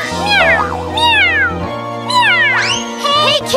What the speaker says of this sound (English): Meow, meow, meow. Hey, kitty!